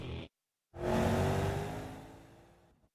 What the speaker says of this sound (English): let's hear that glorious V8 sing us a song